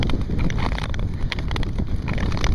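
Strong wind buffets the microphone while skating on black ice on Lake Minnewanka, a continuous loud rushing roar with gusty fluctuations and no talking.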